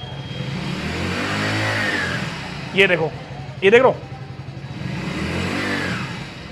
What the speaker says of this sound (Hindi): अब मैं रेस दे रहा हूं, क्लच दबा हुआ है